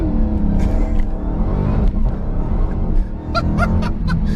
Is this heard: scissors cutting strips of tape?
no